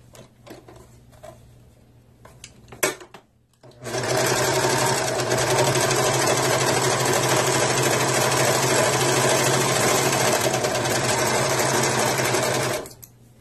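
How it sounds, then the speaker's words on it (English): A serger overlock machine trims and finishes a fabric edge with loud, continuous rapid stitching that holds for about nine seconds and then cuts off, preceded by a few sharp handling clicks and thumps. "you're serging off about an inch"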